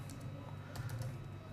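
Someone types a command on a computer keyboard, giving a few light, quiet keystrokes spaced through a short stretch over faint background hum.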